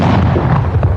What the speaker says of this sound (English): The Marines blew up the heavy guns they took today.